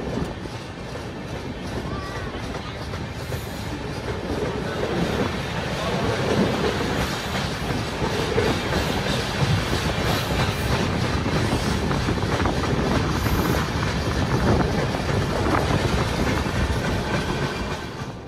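Passenger train running on rails just after leaving Sasaram station, a loud steady rumble with rhythmic wheel clatter over the rail joints, heard from inside the carriage and continuing throughout.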